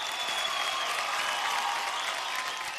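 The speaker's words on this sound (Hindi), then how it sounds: "एक बार जोरदार तालियां यार।" A dense, steady wash of loud applause fills a studio audience on the Super Dancer Chapter 4 dance show, continuous and even for the whole stretch with no break.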